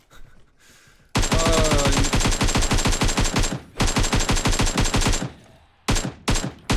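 Rapid automatic gunfire in PUBG Mobile comes in several long, loud bursts of evenly spaced shots, separated by brief pauses and ending in shorter volleys.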